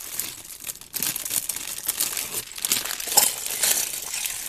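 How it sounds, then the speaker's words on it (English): A crinkly plastic Lego parts bag for the Toy Story 10770 Buzz & Woody's Carnival Mania set is torn and rustled open close by, with dense bursts of crackling that keep going, loud and unbroken, and no voices. "That's an extra crinkly bag."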